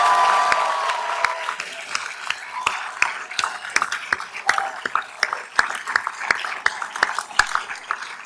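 An audience at a dental students' white coat ceremony claps, a sustained round of applause with sharp individual hand claps standing out, moderately loud and steady, fading slightly before picking back up.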